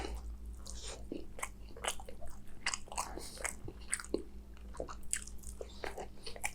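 Close-up chewing and crunchy biting of a spicy curry meal with prawns, lobster and chicken, repeated bites in an irregular rhythm over a low steady hum, with no talking.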